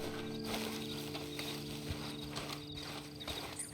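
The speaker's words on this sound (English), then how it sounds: "Then you better get on this horse." Horse hooves clip-clop steadily at a walking pace in Red Dead Redemption 2, close and continuous for a few seconds with faint mechanical creaks and no talking.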